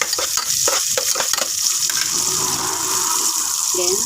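Onions browning in a frying pan for a mussel dish, a steady loud sizzle with stirring scrapes and clatter near the start, close and continuous throughout.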